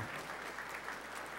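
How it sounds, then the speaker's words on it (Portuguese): Audience applause at a formal ceremony honoring an association's anniversary, a dense, steady wash of clapping from a crowd in a hall, short and fairly even without voices. "peço uma salva de palmas"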